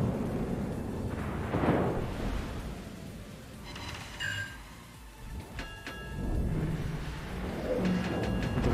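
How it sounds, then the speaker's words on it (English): A Conqueror tank in a video game fires an armor-piercing shell, a heavy booming blast set against a rumbling engine-like background, with a fainter second report and metallic pings afterward. "Now we're gonna shoot AP."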